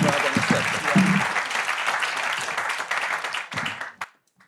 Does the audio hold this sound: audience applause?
yes